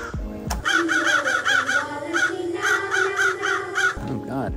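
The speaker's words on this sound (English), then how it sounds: "Oh God, birds." Crows cawing loudly and close in rapid repeated harsh calls, several runs of caws in quick succession outdoors beside a parked camper van, with a brief human exclamation at the start.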